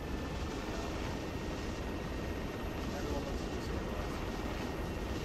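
Helicopter in the ArmA 3 military video game, a steady loud rotor and engine roar filling the whole stretch without letup, with voices talking over it.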